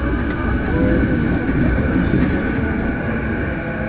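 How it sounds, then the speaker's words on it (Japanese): Steady, continuous rumble and rail roar from inside a JR East Chuo Line rapid train running at night between Tokyo and Shinjuku, loud and unbroken with no voices. "この電車は中央線快速豊田行きです。"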